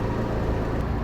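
A Porsche engine idling after starting up, a dense, steady low rumble with no breaks, heard close.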